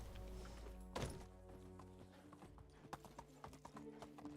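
Horse hooves clip-clopping in the Medieval Dynasty video game, a steady run of hoof taps over a low musical bed with a louder thud near the start.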